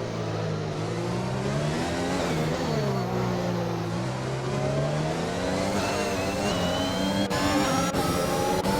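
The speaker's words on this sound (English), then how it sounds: "These drivers all putting the pressure on Oxygen Thief as they come up to another lap car of RRL Dutchy here on lap 8" Racing cars in the F1 video game on the Monaco street circuit, several engines whining and rising in pitch together at high revs, loud and continuous throughout with gear-change shifts.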